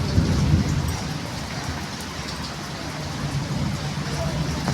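Steady downpour hisses close by, with a low rolling rumble beneath that fits distant thunder, while people talk faintly over the rain.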